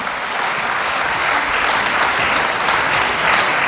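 An audience at a concert evening of traditional Armenian song breaks into sustained, dense applause, loud and even throughout, with no voices over it.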